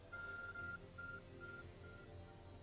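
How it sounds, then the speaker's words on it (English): A phone in Pokemon Legends: Arceus beeps, a single electronic tone four times in a row, the first beep long and the rest short and evenly spaced, over quiet background hum. "Your arc phone is beeping."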